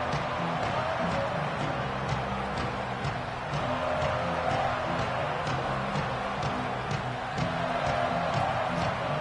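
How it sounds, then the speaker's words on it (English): A big football stadium crowd roars steadily through a Nebraska vs Washington college game. The noise is loud and sustained, and it stays that way throughout. "They challenge this crowd to bring the energy, and I'd say they're doing that."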